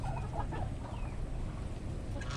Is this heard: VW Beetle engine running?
no